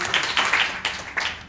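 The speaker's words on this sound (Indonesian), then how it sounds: "tepuk tangan." A few scattered bursts of hand clapping in a church service, uneven and fairly close, rising and falling in short pulses rather than a full ovation.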